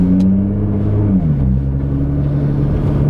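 A 2011 Nissan GT-R twin-turbo V6 rumbles and rises in pitch as it accelerates, a steady close-up drone with a brief gear-change dip partway through.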